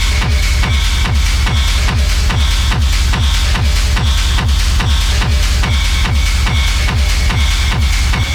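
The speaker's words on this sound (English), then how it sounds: "here I've done a kind of a interesting modulation where you can hear it's going down and then back up" An industrial techno loop with pounding regular kicks under a synth lead whose modulation sweeps down and then back up, loud and dense throughout, with no talk.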